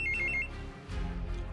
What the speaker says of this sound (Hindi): विकी का फोन बजा